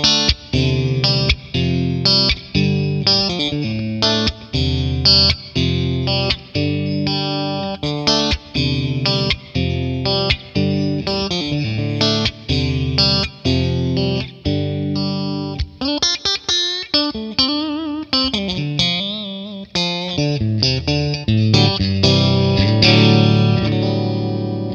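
Electric guitar played through a 1964 Selmer Treble n Bass 50 amp with its reverb engaged, loud distorted chords and riffs ringing out in repeated phrases, with a bending, warbling passage midway.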